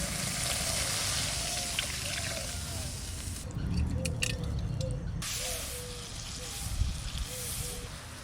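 Water hissing and bubbling as it is poured into fried spice paste in a hot pan, a continuous loud sizzle and spray with spitting bursts, while a person talks briefly.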